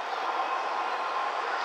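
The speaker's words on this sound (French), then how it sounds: "Là c'est un rapide de la ligne Ueno Tokyo Line avec deux voitures." A two-car rapid train on the Ueno-Tokyo Line passes between Ueno and Nippori, a steady, loud wash of rolling rail noise with no breaks.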